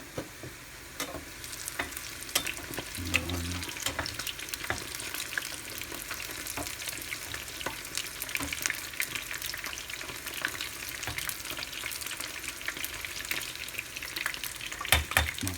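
Eggplants frying in a pan of hot oil give a steady, close sizzle and crackle that runs throughout, with occasional stirring and small pops.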